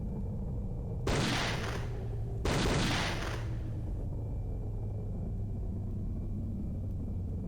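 Tank driving and firing in a video game mini-game: a steady low engine rumble runs throughout, with two loud, broad blasts near the start that each last about a second and a half.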